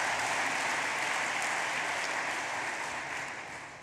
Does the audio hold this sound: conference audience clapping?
yes